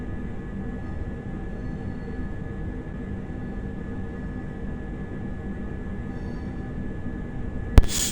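Class 805 electric train running in Train Sim World 6 on the West Coast Main Line from London Euston to Birmingham New Street, a steady low interior rumble and hum with a faint whine, ending in a brief sharp click.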